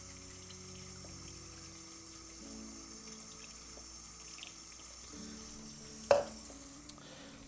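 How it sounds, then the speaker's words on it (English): Stop bath pours through a funnel into a light-tight film developing tank, a soft steady trickle under faint background tones, ending with a sharp clunk and a small knock near the end. "Now I'm just going to pour the stop bath right in."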